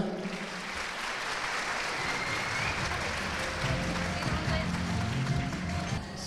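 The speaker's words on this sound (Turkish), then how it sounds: "Şimdi de konuşmalarını yapmak üzere Türkmen Eğitim Müdürü Sayın İmam Muhammed İbrahim'i sahneye davet ediyorum alkışlarınızla beraber." Audience at a Turkmen-language education award ceremony applauds steadily, a dense wash of clapping that stays loud and even throughout.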